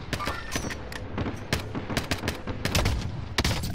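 Sniper-rifle gunfire in a shooter video game, mixed with other weapons: a rapid string of sharp, loud cracks and bursts with booming reports, dense and overlapping, with no talking.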